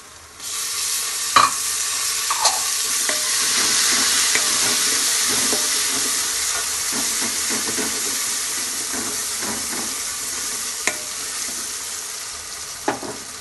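Steady frying sizzle of tomatoes in a pan with ginger garlic paste, with occasional clinks and scraping of stirring, no voices.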